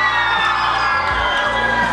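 A concert crowd in Ploiești cheers and whoops, a loud sustained roar of many voices with high shouts rising above it.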